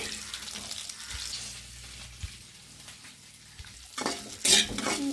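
Soft frying and sizzling of chutney ingredients in a pan with stirring, followed near the end by a brief burst of running water.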